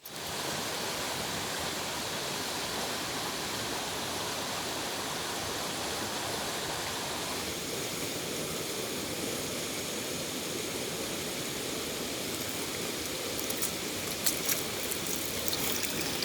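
A river rushes past a bank in the Olympic Mountains during a June heatwave, giving a steady, dense wash of flowing water that holds even and unbroken throughout, with no voices over it.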